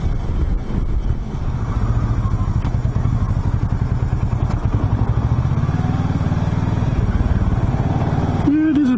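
A Kawasaki Versys 650 motorcycle engine thumps at low speed, with a close, steady pulsing rumble and some wind noise throughout.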